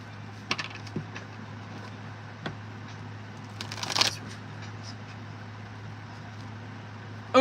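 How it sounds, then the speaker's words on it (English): Tarot cards shuffle softly at close range during a live reading, with light riffling and scattered clicks and taps over a steady low background hum. "I just shuffled that shit in there."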